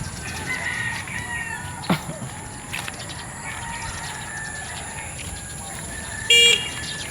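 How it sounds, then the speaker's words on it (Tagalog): Chickens cluck and a rooster crows in the distance over a steady outdoor hiss, with a brief car horn near the end. "Maririnig mo yung ingay ng mga manok."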